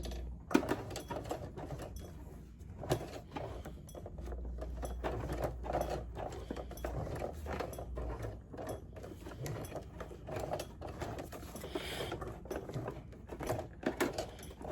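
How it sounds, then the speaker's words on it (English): A non-industrial sewing machine is cranked by hand and stitches slowly at a steady, even pace, with a soft mechanical clatter repeating throughout and no other sound nearby. "let's sew this down. I gotta go slow because this is not an industrial machine"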